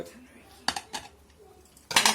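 A pressure cooker holding boti curry is shut, giving several sharp metallic clanks of the lid and pot spaced apart, the last one louder and ringing, with quiet kitchen noise between.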